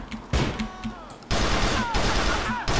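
Gunfire rattles in the video game GTA: The Lost and Damned, with sustained loud bursts of shots and echoing rounds in a chaotic firefight.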